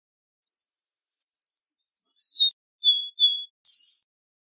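Myzomela honeyeater, an Australian bird, calling in a clean series of about seven short, high, thin whistled chirps, some clustered together in quick trills, separated by silent gaps.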